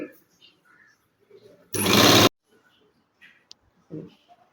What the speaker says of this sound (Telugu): దానికి చివర లైనింగ్ మీదకి ఈ క్లాత్ వచ్చేట్టుగా చూసుకొని ఓ స్టిచ్ వేసుకోవాలండి